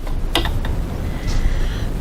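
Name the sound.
sewing machine stitching a seam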